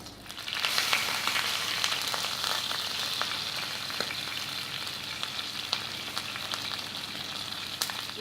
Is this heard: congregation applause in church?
no